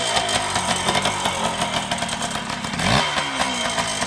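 A small Kawasaki KM100 motorcycle engine runs close by with a rough, rapid two-stroke putter, rising briefly as if revved, without any speech.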